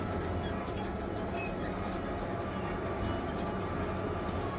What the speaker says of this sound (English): This ride is the only way I found to get to the park subway station.